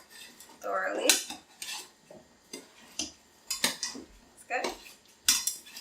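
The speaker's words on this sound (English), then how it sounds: "Okay, then go ahead and mix it thoroughly." Edamame salad with avocado mixed in a bowl, with close, crisp clinks and scrapes of utensils in irregular bursts; someone speaks briefly.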